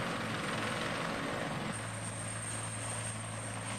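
Military medevac helicopters run with engines and rotors turning during a hot refuel in Afghanistan, a loud, steady, close roar that continues without any talking.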